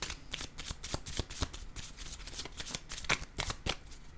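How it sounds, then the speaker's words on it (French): Tarot-style cards are shuffled and laid down during a card reading, a rapid series of crisp papery flicks and slaps, close and quiet, without talk. "Je vais déposer une carte rose pour ici."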